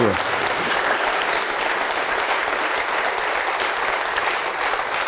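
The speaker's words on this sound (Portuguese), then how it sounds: "vamos aplaudir mais ao nome de Jesus" Church congregation applauding in the name of Jesus during a service, a continuous, evenly sustained wash of many hands clapping from start to finish.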